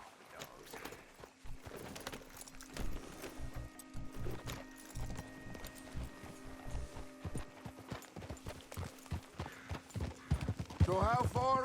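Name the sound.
horses trotting in Red Dead Redemption 2, a video game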